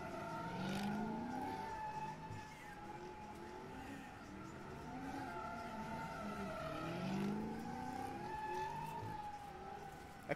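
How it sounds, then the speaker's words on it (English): Chevrolet Camaro driving at an underground street takeover in Philadelphia, a steady engine roar with pitch sweeping up and down as it revs, mixed with crowd noise and a steady loud wash throughout. "Camaro sounds so quiet."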